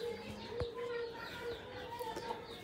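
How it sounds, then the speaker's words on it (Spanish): Chickens cluck softly in a sunny yard after being watered, several short clucks and chirps scattered over a faint outdoor background. "Mis gallinas les riego tan a gusto allí"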